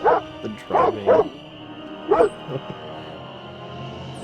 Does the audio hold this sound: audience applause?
no